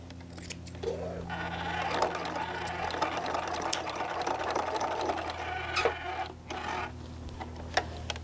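A sewing machine stitches a fabric pouch with a continuous close whirr and rapid needle clatter, running without pause and fairly quiet overall.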